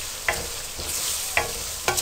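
Spiced okra with chilies and garam masala frying on high flame, a spoon clicking and scraping against the pan three times over a steady sizzle, close and without voices.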